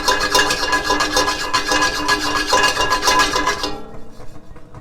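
Dry breadcrumbs scraped and stirred in a pan with a flexible rubber spatula, a steady close gritty rasping that stops abruptly near the end.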